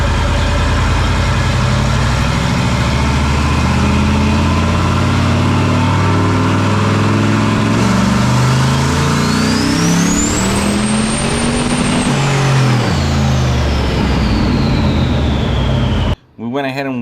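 A turbocharged, carbureted Mopar 361 big block running on pump gas roars loudly on a dyno, its pitch climbing through a pull alongside a rising turbo whine, then easing back down before cutting off abruptly.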